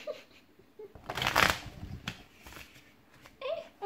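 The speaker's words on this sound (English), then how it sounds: "I'm gonna attempt a bridge ruffle shuffle." Tarot cards given a bridge ruffle shuffle, a sharp close riffling burst followed by softer card clicks and a second brief riffle, with faint voice in the background.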